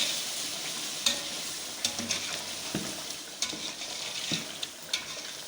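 Green chilies and garlic-ginger paste being stirred in a hot pan for Afghani biryani pulao: a steady close sizzle broken by several sharp scrapes of the spoon against the pan.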